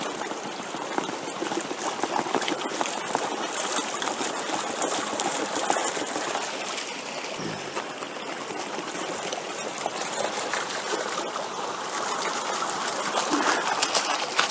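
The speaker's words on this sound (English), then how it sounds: "So you can see sluice running perfectly well." Water rushes through a gold sluice loaded with a full-cell dream mat, making a continuous broadband wash with steady splashing and trickling and no pauses.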